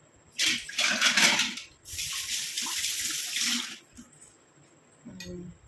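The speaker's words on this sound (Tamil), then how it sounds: "நல்லா ஸ்க்ரப் ஆகிட்டோம் ஹேண்டை வாஷ் பண்ணிட்டு வந்துடுறேன்" Water running from a tap while hands are washed, two bursts of splashing flow with a short pause between, followed by a brief clink at the end, close and fairly quiet.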